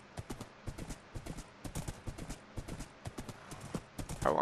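Steady clip-clop of horse hooves in Minecraft at a walking pace, close and fairly quiet, with a brief brighter rustle near the end.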